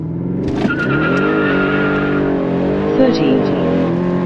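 An Audi RS7 with a full straight-pipe exhaust launches hard from a standstill toward 60 mph, its loud engine roar climbing steadily through the run as the tires shred and scrabble for grip, with a voice talking over it.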